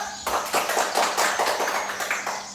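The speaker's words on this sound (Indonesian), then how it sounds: "Tepuk tangan dulu." Students in an Indonesian classroom clap together in a quick, regular rhythm, a close, bright series of synchronized claps repeating steadily without pause.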